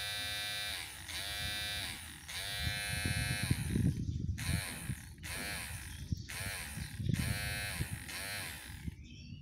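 An electric hair clipper, repaired after failing completely, buzzes in repeated short bursts as it is switched on and off, with a steady whining hum during each burst and clattering handling noise underneath.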